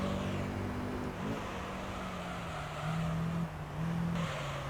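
The engine of an NSX race car in Gran Turismo 3 hums steadily with shifting pitch as it climbs and settles through the gears, loud and continuous with no voices.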